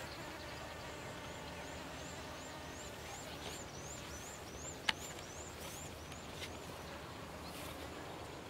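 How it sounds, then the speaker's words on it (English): A low, steady buzz of bees among dragon fruit flowers in south Thailand hums outdoors, with faint bird chirps repeating above it and one brief sharp click midway. "A bunch of bees in that one."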